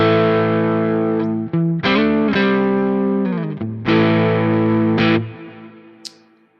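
A heavily distorted electric guitar through two amps summed into one on a Quad Cortex rings out sustained chords with a few quick changes, then lets the last chord fade away.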